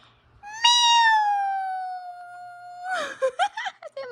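A mother imitates a cat's meow: one long, sustained, drawn-out vocal meow lasting about two seconds, loud and close, followed by a few short broken voiced sounds.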